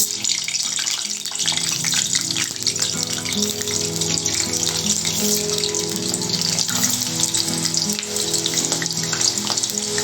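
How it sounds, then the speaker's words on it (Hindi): Potatoes for dhaba-style dum aloo deep frying in oil, a steady loud crackling sizzle that holds throughout with dense spattering bubbles and no talk. "अब इन आलू को डीप फ्राई करेंगे।"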